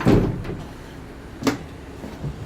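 Side door of a Citybee Big carsharing cargo van opening for loading, heard as a thump at the start, a couple of sharp latch clicks and then a sliding rumble, close and moderately loud with no talk.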